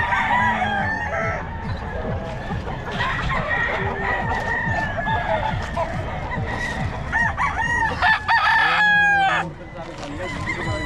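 Rooster crows repeatedly, loud and close, amid clucking chickens, with someone talking intermittently over the birds.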